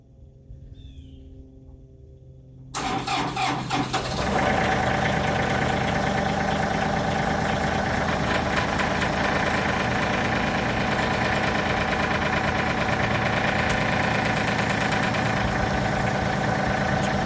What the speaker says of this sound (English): I'm going to crank the tractor up and let it run a little bit.